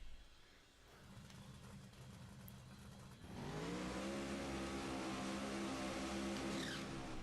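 A drag racing car engine in the video game No Limit 2 idles roughly and then roars up into a loud, sustained high rev, harsh and close, with no one talking.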